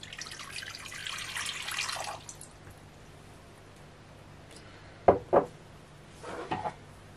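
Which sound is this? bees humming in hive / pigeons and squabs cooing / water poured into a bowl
water poured into a bowl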